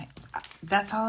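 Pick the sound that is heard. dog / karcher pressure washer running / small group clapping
dog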